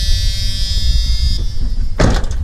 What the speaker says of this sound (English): You guys hate that buzzer.